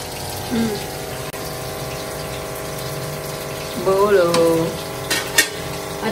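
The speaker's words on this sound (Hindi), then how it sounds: "आयल गर्म हो गया था, सॉरी प्याज मैंने डाल दिया" Onion fries in hot oil in a home kitchen with a steady, fairly loud sizzle, briefly overlapped by a voice partway through.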